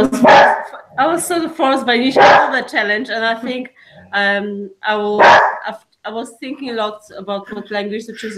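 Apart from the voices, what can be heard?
dog barking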